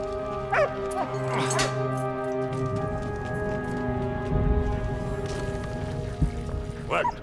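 A dog barks in Valiant Hearts: The Great War with a few short yips and barks over steady rain and a tonal game soundtrack, while people talk now and then.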